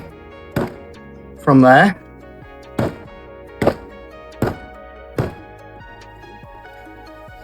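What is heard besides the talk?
banging a resin mold to demold it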